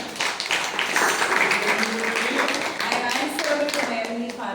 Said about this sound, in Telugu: చప్పట్లు కొట్టేది గట్టిగా